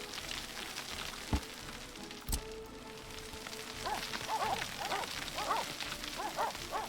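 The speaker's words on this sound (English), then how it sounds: "The barking is in game" A few quick, fairly distant dog barks in the game Workers & Resources come in bursts in the second half, over a steady hiss with a couple of sharp knocks earlier on.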